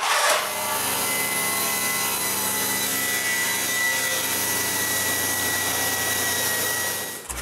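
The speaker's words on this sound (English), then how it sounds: "we unmold the leg and cut more strips for another set of legs" Wood strips for coat rack legs are cut in one continuous, loud power-tool run with a steady whine and rasping bite that lasts nearly the whole stretch, with no talking.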